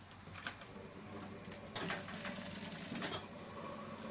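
A sewing machine runs a quarter-inch seam along a waistcoat lining, giving a faint, steady whirring stitch with small fluctuations throughout.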